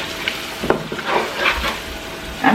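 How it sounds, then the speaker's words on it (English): Palm soup simmering in a pot gets stirred, with soft scraping strokes and a low bubbling sizzle that stay close and quiet, and no voices. "Let's do a bit of stirring."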